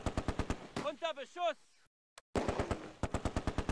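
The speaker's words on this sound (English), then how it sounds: "The Vickers targets the closest, a Schützen squad." Vickers machine gun in the wartime game Close Combat rattling off rapid bursts of automatic fire, loud and close, with sharp repeated shots before and after a short silent gap.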